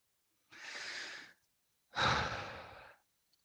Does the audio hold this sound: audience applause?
no